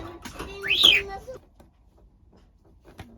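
A pet bird inside a caravan gives a short, bright rising call close by, overlapping a soft voice at the start, then near silence with a faint click.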